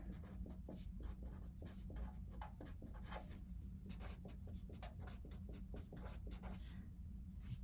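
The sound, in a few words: writing on a board during a lecture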